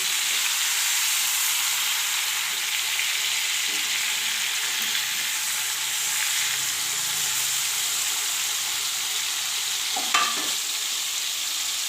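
Chicken pieces fry on a hot tawa with a constant close hiss and sizzle, broken by a few soft scraping stirs and a brief clatter near the end, with no voices.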